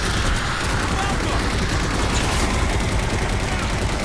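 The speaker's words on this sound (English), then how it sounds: "Need a line of turret fire." Rapid sustained turret fire in Halo 4, a continuous dense stream of automatic shots filling the whole clip at steady loudness with other battle noise mixed in.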